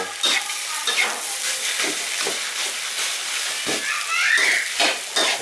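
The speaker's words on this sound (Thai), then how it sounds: "แล้วก็นี่ครับเริ่มการผัด ผัดนานๆครับ ให้มันแห้ง" Thai red sauce fried rice stir-fried in a pan gives a loud, continuous sizzle, with rhythmic scraping and tossing of a spatula against the metal throughout.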